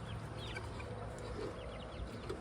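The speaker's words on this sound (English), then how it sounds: "Those are layer hens." Layer hens cluck softly in a farmyard, a few faint scattered calls over a steady background hiss, with no talking.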